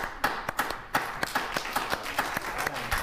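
A small studio audience clapping on a TV talk show: sparse, uneven claps from a few pairs of hands, each clap distinct and fairly close, with no cheering.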